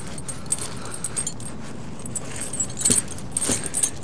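Tire chain links shoved under a tire, a close, metallic jangle and clinking of chain with scattered rattles, the loudest clanks near the end over a low background rumble.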